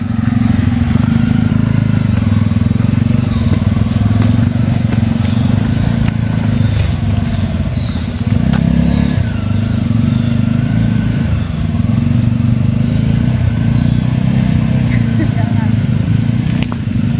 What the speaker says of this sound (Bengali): বাইকগুলো এখন উপরের দিকে উঠে আসছে।